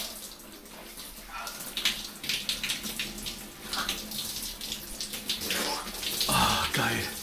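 Shower water running steadily in a free campsite shower block, a continuous hiss with splashing bursts, near and fairly loud, with a voice talking briefly over it.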